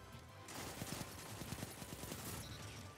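Rapid auto rifle fire in Destiny, a steady burst of fairly quiet, evenly spaced shots running for a couple of seconds with no talk over it.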